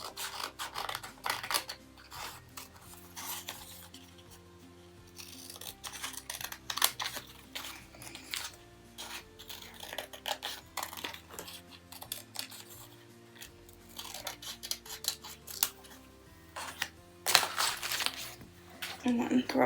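Scissors cutting paper for a book journal, a close series of crisp snips and rustles in uneven bursts with soft papery rubbing between them, growing busier toward the end, with some talking mixed in.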